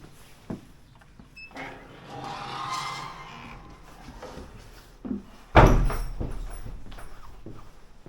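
A door opens with a sudden loud clunk and rattle as someone enters a monastery in Karakorum, Mongolia, after quieter handling noises, with no talking.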